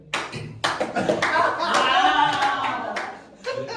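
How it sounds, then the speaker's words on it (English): A small comedy open-mic crowd claps in sparse, uneven bursts, a few sharp separate claps followed by a fuller round that fades, with brief voices mixed in. "Is that a good clap?"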